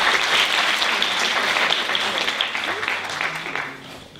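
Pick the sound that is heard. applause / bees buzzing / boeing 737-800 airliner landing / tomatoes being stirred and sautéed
applause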